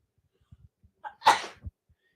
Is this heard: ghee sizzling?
no